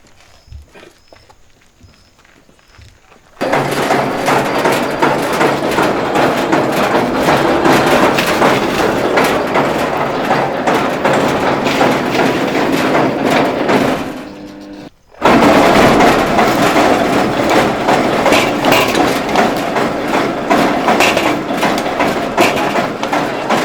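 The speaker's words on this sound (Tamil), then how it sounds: "இப்போ தேங்காய் உரிக்கிறதுல பார்த்தீங்கன்னா இந்த மாதிரி ரெண்டு வகையான மிஷின் நான் பண்ணிக்கிட்டு இருக்கிறேங்க" A coconut dehusking machine starts up after a quiet moment and runs loudly and continuously with a heavy mechanical roar and rattling, briefly dropping out once before roaring back at full level.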